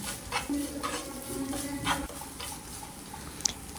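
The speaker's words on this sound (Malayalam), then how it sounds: "തേങ്ങ ഒരു ബ്രൗണിഷ് കളർ ആവുന്ന വരെ നമുക്ക് ഇളക്കി കൊടുക്കാം" Grated coconut and moringa leaves are stirred in a pan for thoran, giving a soft continuous sizzle with repeated scraping strokes of the spoon, close and without talk.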